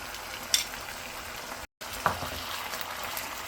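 Garlic and ginger sizzling in hot oil in a pan, a steady soft frying hiss with a couple of brief stirring clicks, close and fairly quiet with no talking.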